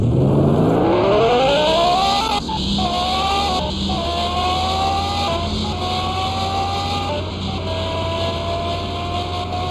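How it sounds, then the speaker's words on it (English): A Lamborghini Gallardo engine revs hard at full power, pitch climbing steeply then stepping through repeated high sustained pulls with brief drops between, loud and close, no talking. "we were able to max this car out now at 381"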